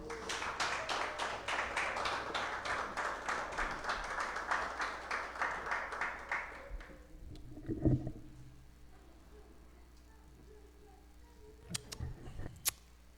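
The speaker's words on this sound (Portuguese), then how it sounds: "Você pode aplaudir ao Senhor?" Congregation clapping during a church service, a rhythmic, fairly loud patter of many hands that fades out after about six seconds, followed by a few scattered knocks and faint shuffling sounds.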